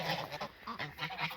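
Guinea fowl and chickens call while feeding at a hobby farm feeder, a dense, close chorus of honking, chattering cries in quick overlapping bursts.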